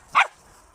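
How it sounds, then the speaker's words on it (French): A pet dog gives a single short bark, close and sharp, followed by quiet room tone. "Mon chien."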